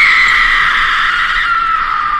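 A person in a film scene screams and cries in grief after a lover's tragic death in a freezing, wolf-threatened setting, a loud sustained anguished wail that slowly drops in pitch.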